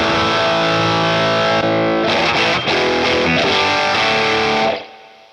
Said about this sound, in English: DST Plus, Distortion Plus.